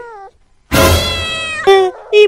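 Cartoon cat meowing in an animated family comedy: a short mew, then a long loud drawn-out yowl and two further brief meows, close and clear.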